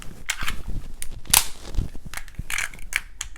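A Luger pistol's toggle lock action is worked by hand, giving a quick series of sharp, close metallic clicks and clacks over a few seconds.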